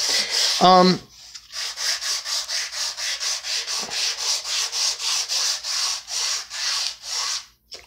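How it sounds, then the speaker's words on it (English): Rhythmic scraping of sandpaper on a wooden guitar neck, about twenty quick back-and-forth strokes in a steady rhythm, close up, after a brief squeaky sound at the start. "just start sanding"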